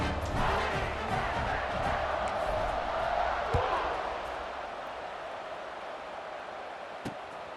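Stadium crowd in a college football video game, EA Sports College Football 26, a broad steady roar that swells and then eases under commentary, with a couple of sharp thuds.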